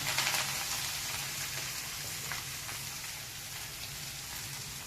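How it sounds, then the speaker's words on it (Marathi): Vegetables dropped into a hot kadhai of oil set off a steady, crackling sizzle that hisses evenly and close by for the whole stretch, with no talking over it. "ही भाजी त्यामध्ये आपण टाकते कढईमध्ये मी टाकते"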